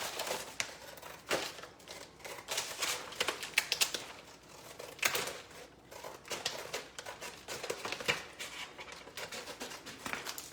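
Blade cutting away the bleed line of a floral furniture transfer sheet on an antique cabinet, a run of close crisp crinkling, snipping and paper rustles in uneven bursts with no talk.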